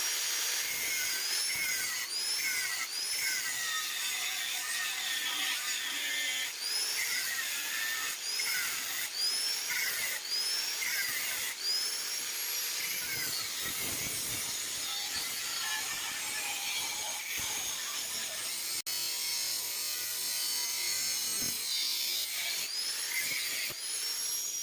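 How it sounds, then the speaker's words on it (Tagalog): An angle grinder cuts a miter into wood, tilted onto its side, giving a steady high-pitched whine that runs through the whole clip, with repeated brief dips and rises in pitch as it bites and eases. "Kahit ipatagilid natin yung grinder natin."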